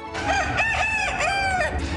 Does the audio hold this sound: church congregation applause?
no